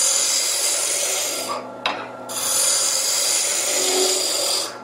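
A woodturning tool making long, light bevel-supported cuts that peel material off a spinning wooden workpiece, a loud continuous rasping hiss with one brief pause before the cut resumes.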